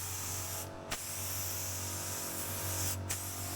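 Quick-drying lacquer sprayed onto a fibreglass Land Rover Defender 90 body kit: a steady, close aerosol hiss broken by two short pauses where the nozzle is released and pressed again.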